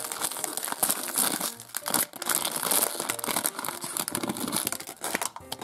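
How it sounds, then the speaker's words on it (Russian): Plastic surprise-toy package being torn open and crumpled by hand, continuous close crinkling and rustling with sharp tearing bursts throughout. "Ну, давайте откроем последний пакет."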